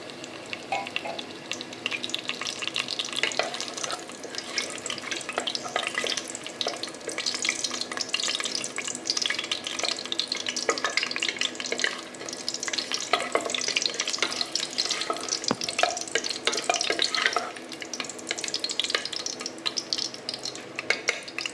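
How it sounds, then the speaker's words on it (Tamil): Cinnamon, cloves, cardamom, bay leaf and star anise fry in oil and ghee for a jackfruit biryani, a close, busy sizzle with light utensil clinks from stirring. "இப்போ பட்டை, லவங்கம், ஏலக்காய், பிரியாணி எல்லாம் ஆட் பண்ணிக்கலாம்."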